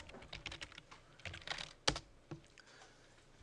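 Keys clatter on a computer keyboard in a quick, uneven burst of close, quiet taps, with one louder keystroke partway through and sparse clicks afterward, no speech.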